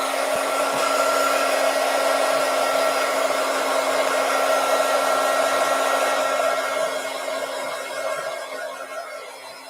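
A heat gun blows steadily and loudly while drying a wet craft piece, a constant whooshing roar with a high whine that holds for most of the time and eases off slightly near the end.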